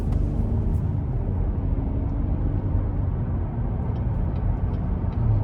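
Steady engine drone and road rumble from a 2025 Chevy Blazer RS with a V6 as it accelerates out of a corner, heard from inside the cabin as a continuous low roar with no talking.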